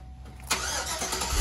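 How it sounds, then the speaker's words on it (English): A 2006 Chevrolet Tahoe engine with its stock exhaust cranks and catches, then settles into a steady, fairly quiet idle close by. "we're gonna fire it up so you can hear the stock really quick"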